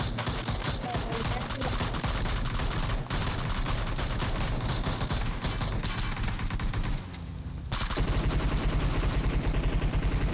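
Sustained automatic gunfire in the video game PUBG Mobile is aimed at a fleeing buggy. Dense rapid bursts carry on for several seconds, pause briefly, then resume loud, with excited voices shouting over the shots.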